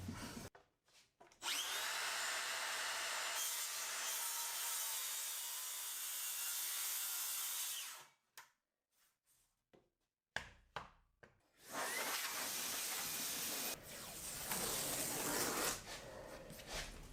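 A Makita saw cutting through wood, two long loud continuous cuts separated by a pause with brief motor spin-downs, close and steady with no talking.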